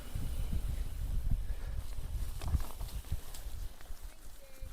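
Small horses walk along an unploughed path near Dudley, their hooves giving faint, irregular clip-clops under light wind noise.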